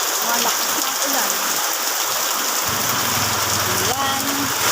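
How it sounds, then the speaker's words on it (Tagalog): Heavy rain pours steadily and loudly on a cold day, a dense hiss filling the whole stretch with no break, and a faint low hum joining partway through. "Malakas na ang ulan."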